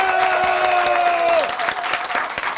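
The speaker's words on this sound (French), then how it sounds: "Ça s'applaudit, public." A studio audience applauds on a live Senegalese TV talk show, dense, loud clapping that holds throughout while music and a voice fade out near the beginning.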